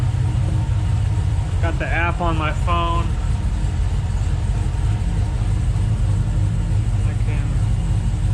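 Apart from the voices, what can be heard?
truck engine running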